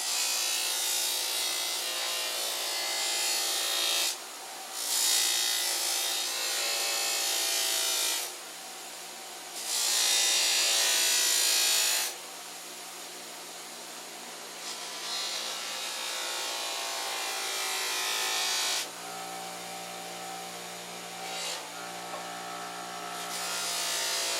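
A buffing wheel polishes a cast aluminum Boler trailer hinge, a loud steady whirring rasp that comes in long bursts, drops briefly between passes and changes tone as pressure shifts, with no talk.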